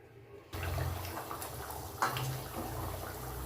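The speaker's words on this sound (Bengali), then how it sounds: "ঝোলটা একদম ফুটে গেছে" A pot of fish curry broth boils at a low, steady level, bubbling and gurgling after a brief quiet start, with one louder splash partway through.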